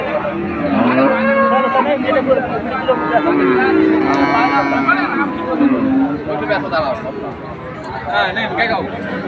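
Cattle moo repeatedly at the busy Betaga cattle market, drawn-out bellows rising over a steady crowd babble, with people talking close by.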